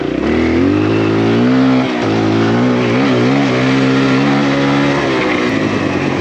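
A Kawasaki KLX140RF dirt bike engine drones steadily while riding at a motocross park, loud and close, with pitch rising and falling as the throttle shifts and no voices.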